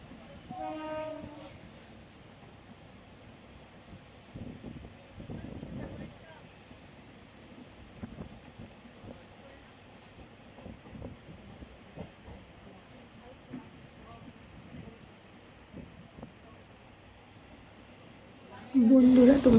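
A Kolkata metro train running, a steady low rumble and hiss inside the carriage with occasional clunks, rising to a louder rush at the end, voices talking in the background.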